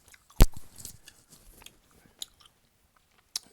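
Gum is chewed close to the microphone with one sharp, crisp bite followed by soft, sparse wet smacks and clicks in a quiet setting.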